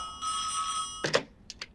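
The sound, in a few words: phone ringing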